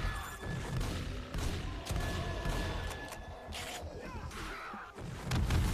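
Gunfire in the video game 7 Days to Die (Darkness Falls mod), a dense, noisy stretch of repeated shots and crashing impacts running for several seconds at fairly steady loudness.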